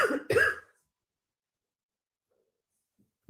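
Two sharp, close coughs in quick succession, followed by near silence and a faint brief sound at the very end.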